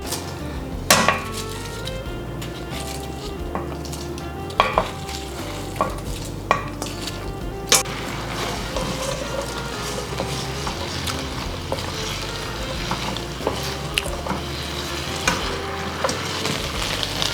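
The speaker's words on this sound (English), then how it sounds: "now I'm going to add my steak strips in here" Steak strips fry in a hot pan with crushed red pepper for Mongolian beef, producing a continuous close sizzle punctuated by sharp clanks and scrapes of a utensil stirring against the pan, with no voices.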